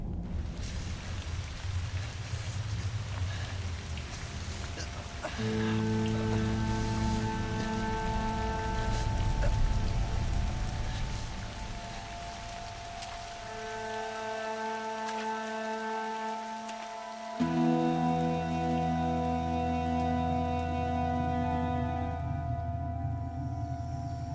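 Steady rain pours down on a surface outdoors, a continuous close hiss holding throughout, while sustained tonal background sounds rise and shift across it; no voices.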